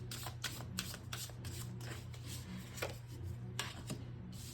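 Tarot cards being shuffled by hand: a steady run of soft, papery riffling clicks close by, over a low continuous hum with no talking.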